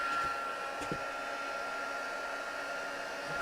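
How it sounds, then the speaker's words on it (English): A heat gun warms up for melting white embossing powder on a handmade card, giving off a steady, even blowing whir at a constant level, close by and uninterrupted. "Just going to heat up my heat gun just off camera."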